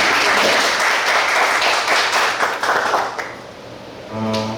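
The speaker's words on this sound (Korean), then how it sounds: "다시 한번 큰 박수." A congregation at a Bible camp retreat bursts into loud, dense applause that holds steady for several seconds, then thins out and fades as a sustained tonal sound rises at the very end.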